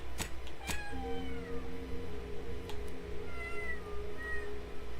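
A cat meows repeatedly nearby, a few drawn-out cries spaced over several seconds above a steady low hum.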